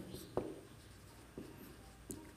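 Hand-written notes for a chemistry lesson, heard as a few faint pen or chalk strokes scratching across the surface against a steady background hiss, with no talking.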